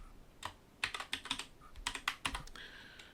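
Computer keyboard typing while working in animation software, scattered soft key clicks in small clusters with a few sharper presses, close and quiet, no speech.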